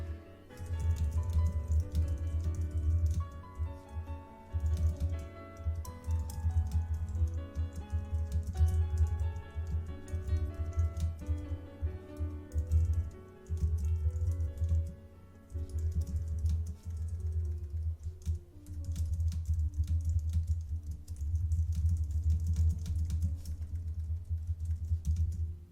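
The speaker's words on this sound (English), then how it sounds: "I'm typing because y'all can't hear me." Continuous typing on a computer keyboard during a live painting stream, close and busy clicking key strikes with brief pauses, no voices over it.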